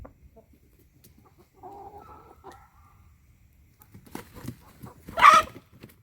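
Several roosters cluck and squawk nearby in short bursts, with a sudden loud squawk near the end amid scuffling.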